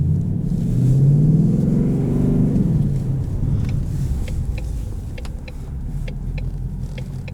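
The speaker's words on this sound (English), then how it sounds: "Putting it in track mode also opens it up to track exhaust," Exhaust of a 2020 Ford Mustang GT Premium Performance Package automatic in track exhaust mode, a loud, deep rumble that swells and rises early, then settles into a steady idle-like drone.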